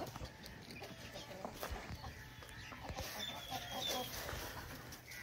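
Shola print chickens on a poultry farm clucking softly at a distance, faint intermittent clucks under someone talking nearby.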